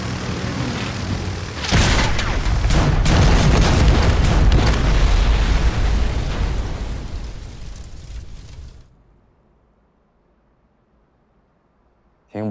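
Bombs exploding during an air raid on Nanyuan airfield, a heavy close blast followed by rolling booms and crackling debris for several seconds, fading into near silence before another sharp burst at the end.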